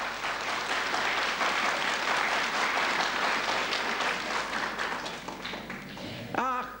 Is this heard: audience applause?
yes